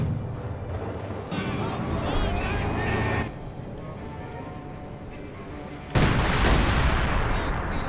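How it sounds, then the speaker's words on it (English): Rattling gunfire from a strafing run in the Company of Heroes 2 strategy game, several bursts mixed with battle noise throughout, bigger blasts near the end, under a caster's commentary. "half track almost destroyed right there by one very impressive strafing run right there"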